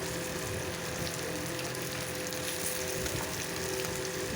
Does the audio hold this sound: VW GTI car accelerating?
no